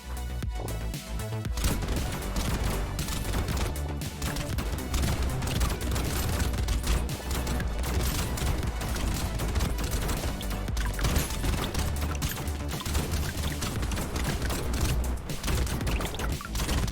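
Nuke launcher explosions in the Brotato video game, a dense, relentless barrage of booms and bursts layered over game music, loud and continuous throughout with no pauses.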